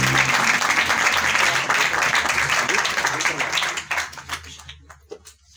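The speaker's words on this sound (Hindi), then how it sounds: "तालियां आपने बहुत थोड़ी बजाई हैं, पूरे दिल से बजाएं, जोरदार बजाएं।" A church congregation claps loudly and continuously at a pastor's gathering, the dense applause thinning into a few scattered claps near the end, with voices faintly audible beneath.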